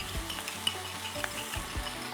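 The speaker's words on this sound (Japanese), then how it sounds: "開けたところにケチャップ流し込みます。" Close sizzling of ketchup poured into a hot frying pan, with repeated scraping and stirring strokes, a steady crackle under regular utensil knocks, while making omurice.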